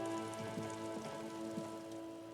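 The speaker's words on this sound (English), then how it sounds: "It's raining again." Rain falling in the video game Disco Elysium, a soft steady patter of drops over a sustained tonal music bed, moderately quiet and without voices.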